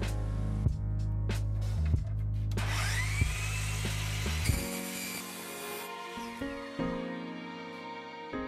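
A power tool cuts through 1.5mm thick aluminium sheet, giving a loud, steady whine with tonal hum that shifts in pitch and intensity as the cut proceeds, close by and with no talking.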